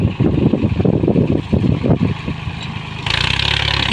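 A tractor works deep ploughing in third gear through hard, compacted soil with both lift levers down, its diesel engine labouring loud and close in rough pulses before settling into a steadier, brighter drone.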